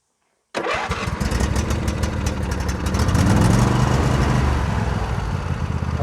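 Riding lawn mower engine on a Craftsman YT4000 cranks and catches after a moment of silence, then settles into a loud, steady close-range idle that swells slightly as it runs, with no talking.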